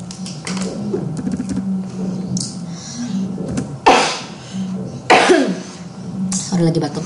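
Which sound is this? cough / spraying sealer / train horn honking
cough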